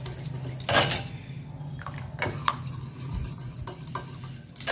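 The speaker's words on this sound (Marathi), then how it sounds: "छान मिक्स करून घ्यायचं" A spoon stirs a thick mixed-lentil dosa batter in a bowl, giving soft repeated scraping and wet swishing strokes with a few light clinks, close and fairly quiet, with no talking.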